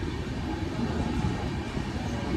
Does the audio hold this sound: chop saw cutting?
no